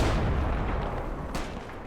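Firefight in the Combat Mission Fortress Italy war game, with rifle grenade and gunfire: a deep, rumbling blast fading out, followed by a sharp distant shot, moderately loud.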